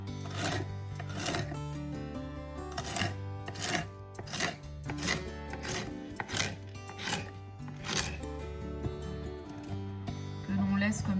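A knife chops washed Swiss chard stalks into thin slices on a board in a steady run of crisp, close chops, with a voice talking over them.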